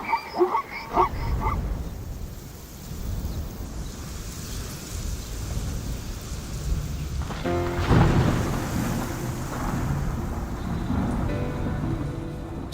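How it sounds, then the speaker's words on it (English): Thunder from a storm over northern pasture lands rolls in deep, sustained rumbles with rain and wind hissing throughout, swelling loudest near the middle. No voices are heard. "Storms, lightning, and thunder."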